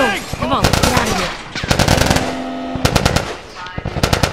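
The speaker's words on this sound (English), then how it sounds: "Fucking shoot them!" Rapid bursts of automatic gunfire from The Last of Us crackle loudly and close, chattering in several volleys separated by brief gaps.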